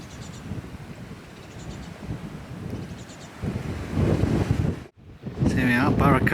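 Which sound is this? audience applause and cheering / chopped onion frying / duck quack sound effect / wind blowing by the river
wind blowing by the river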